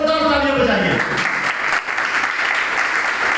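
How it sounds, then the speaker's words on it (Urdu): A church congregation claps at a sermon, a voice briefly heard at the start before dense, loud applause fills the rest. "ہم اس کی زوردار تالیاں بجائیے"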